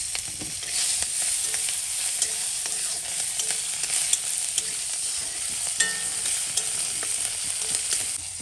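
Garlic and green chillies fry in oil in a pan with a steady, bright sizzle throughout, joined by occasional light stirring scrapes and no talking.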